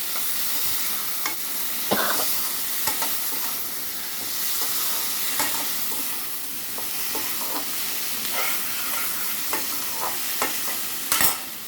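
Peanuts, chickpeas, tomato, onion, curry leaves, red chilli and garlic fry together for a chutney, giving a continuous sizzle over repeated sharp spoon scrapes against the pan.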